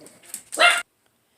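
Dogs on guard give a few close barks, a couple of short yips followed by one louder bark, then silence.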